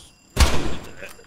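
A door slams in the military game Arma 3, one loud, close thud with a short rattling tail, followed by a faint knock.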